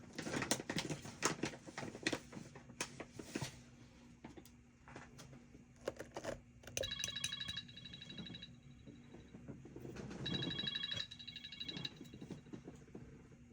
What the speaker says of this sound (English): Business phone started ringing, and that's the money maker.